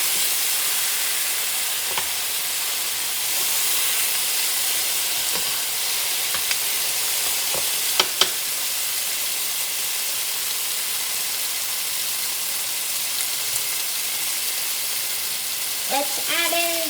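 Steamed mutton being mixed into biryani masala in a pot: a steady, even sizzle and hiss runs close and continuous, with a few soft clinks of a utensil against the pot and a brief scrape near the end.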